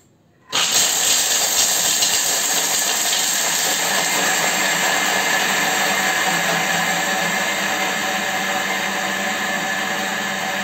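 A food processor grinds chocolate at speed 8, starting abruptly and holding a loud, steady roaring whir with a high whine throughout, alone after a brief quiet moment.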